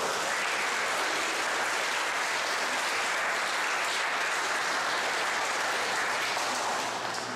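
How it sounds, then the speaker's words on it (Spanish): Wedding guests applauding at a Spanish-language ceremony right after the vows, a steady, full burst of clapping that fills the whole stretch at even loudness. "Un aplauso, por favor"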